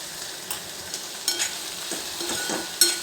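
Okra fries in a pan with salt and turmeric, a soft continuous sizzle broken by a few clinks and scrapes of stirring, close by and without talk.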